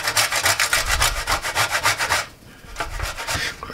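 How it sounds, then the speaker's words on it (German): Parmesan cheese is grated with quick, even back-and-forth rasping strokes, loud and close, then after a short pause the scraping resumes in looser, uneven strokes. "Idealer Zeitpunkt, um unseren Parmesan zu reiben"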